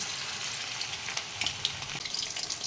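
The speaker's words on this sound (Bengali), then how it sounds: "যার জন্য লো টু মিডিয়ামে আমি এগুলোকে ভেজে তুলে নেব চিকেনগুলো" Chicken pieces for dry chilli chicken fry in oil over low to medium heat, giving a steady, close sizzle with scattered small crackles and pops throughout.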